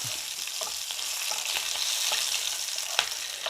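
Dried red chillies and green chillies fry in hot oil in a pan, giving a steady close sizzle with a few soft stirring scrapes and clicks, no voices.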